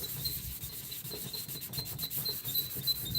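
Fresh sandpaper rubbing back and forth over a surface in quick, short strokes, close up and fairly quiet, a soft rasping scratch with no voices.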